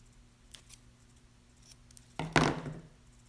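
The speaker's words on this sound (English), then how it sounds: "I'm just going to trim it just a smidge" Paper being trimmed for a card-making border die project, a few faint snips followed by one louder, close cut, alone in a quiet room.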